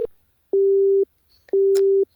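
A telephone busy signal plays in a Minecraft game: a short beep, then two long, loud, evenly spaced tones separated by silence.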